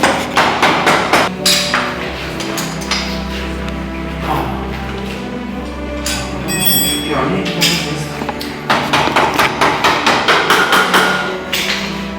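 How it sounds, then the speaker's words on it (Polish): Rapid, evenly spaced metallic hammer blows ring out loud and close during motorcycle assembly. A steady, dense din fills the middle stretch, and then another fast run of blows follows. "Tu masz ten młotek"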